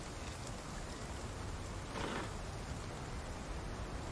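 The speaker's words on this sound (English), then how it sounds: "We'll stay here till the rain disappears." Rain falling in the dinosaur survival game Path of Titans, a steady soft hiss of rainfall with a faint swell partway through, continuous and fairly quiet, with no voices.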